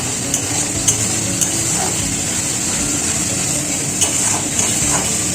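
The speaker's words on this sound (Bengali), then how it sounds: "এবারে এটা ভালোভাবে নেড়ে নেব।" Green chili paste being stirred in a pan for vegetarian aloo dum: a steady hiss of cooking with scattered light scrapes and clinks of the spoon against the pan, close and even throughout.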